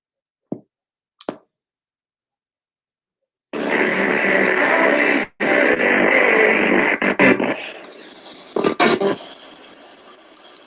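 Spirit box radio sweeping backwards through the FM band at a 200 rate, giving a continuous choppy hiss of static broken by brief fragments and hard cuts, after a couple of short knocks at the start.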